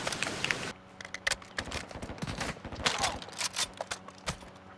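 Gunfire in Call of Duty: Modern Warfare II, quick irregular bursts of sharp shots and impacts, some loud and close, scattered among quieter game sounds.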